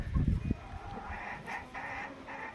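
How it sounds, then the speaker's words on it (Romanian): Hens and roosters in a yard cluck and call in short, close bursts, with a low thump at the start and steady farmyard background. "în total ar fi 15 găini și 5 cocoși"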